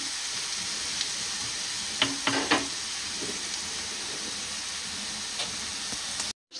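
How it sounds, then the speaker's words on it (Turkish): Onions and fat sauté in a pan for kadınbudu köfte, a steady soft sizzle with a few scraping stirs of a utensil against the pan, close and alone with no talk. "biraz daha kavrulsun"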